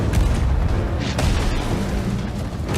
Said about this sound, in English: Oh, and the cannon fire from out there.